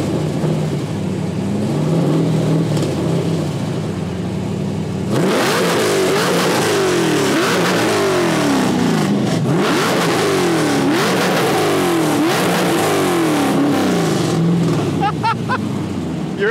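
A car engine at a car meet in Hawaii revs hard through loud mufflers, roaring up and down in repeated surges after a quieter idle, close and very loud.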